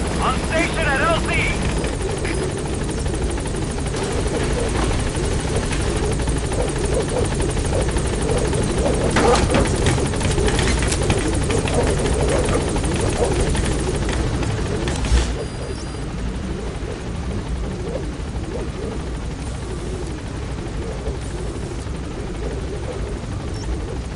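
A B-Quad support helicopter in Metal Gear Solid V: The Phantom Pain arrives at a landing zone, its loud, steady rotor drone filling the scene, with radio voices talking over it before the roar eases slightly near the end.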